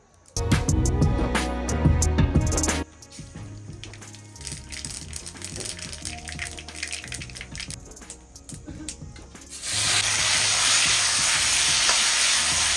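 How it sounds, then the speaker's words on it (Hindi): Potatoes frying and being stirred in a kadhai on a home stove, with scraping and sizzling through most of the stretch and a steadier, louder hiss of frying near the end. "तो अभी आलू भी डाल दिए हैं और इसको ना अच्छी तरह भून लेंगे"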